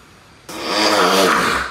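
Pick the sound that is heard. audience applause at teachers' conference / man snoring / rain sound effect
man snoring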